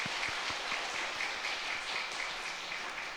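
A church congregation applauds to welcome visiting members during Sunday worship, a faint, steady patter of many hands clapping at a distance.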